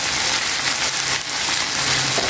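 Chicken simmers covered in a pan on a low flame, giving a steady, dense sizzle and bubbling hiss that runs unbroken and fairly close, with no voices.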